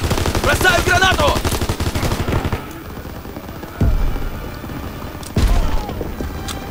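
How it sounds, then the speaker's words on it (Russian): Rapid gunfire in Call of Duty WWII gives way to a deep grenade explosion boom, followed by another heavy blast a moment later, each with a rumbling low thud. "Бросаю гранату!"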